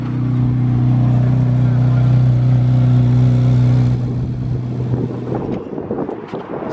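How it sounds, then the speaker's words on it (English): Chevrolet Corvette C8 Z06 engine holding a loud, steady rev for several seconds before dropping off, followed by rougher idle and ambient noise. "Then we have another C8. Man, that thing sounds absolutely aggressive."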